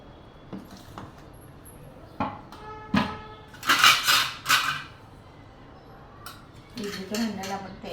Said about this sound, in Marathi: पात्राला, इडलीच्या पात्राला तेल लावून घेऊ.